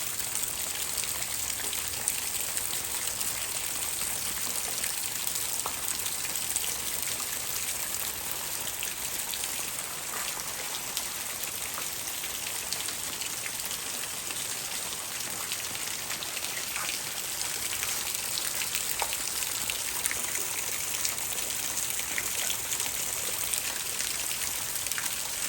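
Heavy rain pours down outdoors around a flower garden, a loud, constant hiss of drops hitting surfaces that holds steady throughout with no voices.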